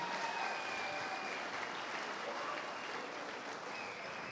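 A crowd applauding at a church gathering, steady dense clapping at a moderate distance that holds evenly from start to finish with no voices on top.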